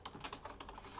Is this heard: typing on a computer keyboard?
yes